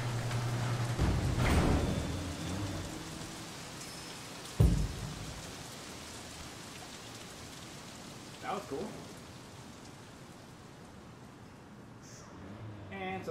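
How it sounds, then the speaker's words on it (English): Steady rain hiss in the video game Sleeping Dogs fills the scene, with a couple of sharper thuds and a short voice near the start. "And so it stops raining."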